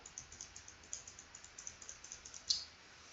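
Quiet, rapid clicking of computer keyboard keys and mouse in an irregular stream, with one sharper click near the end; no voices.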